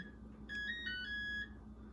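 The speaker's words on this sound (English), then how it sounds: "we can see that the timer has just gone off" A phone timer goes off during cake baking, sounding a short melodic ringtone of bright tones for about a second at moderate volume over a quiet room.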